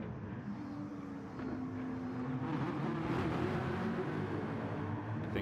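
Porsche race car engine in a racing video game, a steady loud roar that rises in pitch and intensity as it accelerates, continuous without pause.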